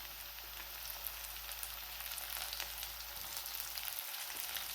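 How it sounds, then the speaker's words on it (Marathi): Onion and capsicum sizzle and fry in a pan, a steady, close hiss that runs evenly throughout with no voices. "हा कांदा थोडासा भाजलेला आहे. नंतर यामध्ये घालायची ही शिमला मिरची"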